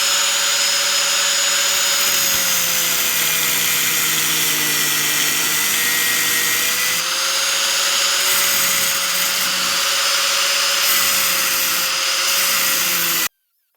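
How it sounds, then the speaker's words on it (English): An angle grinder bevels the metal of a tractor lower lift arm, a loud steady high whine running continuously with slight pitch wavers as it bites, cutting off abruptly at the end. "Then I'm going to bevel it similar to how this is beveled, you see."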